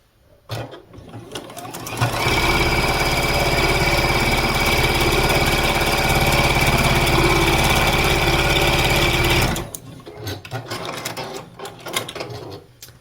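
A sewing machine stitching quilt pieces for a pieced tree block, a rapid steady mechanical chatter running for about seven seconds at close range, with quieter handling sounds before and after.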